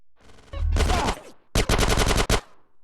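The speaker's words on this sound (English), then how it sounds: "Get some suppressing fire in there!" Automatic gunfire in a GTA San Andreas shootout: a long loud burst, then a rapid string of evenly spaced heavy shots, close and dominant.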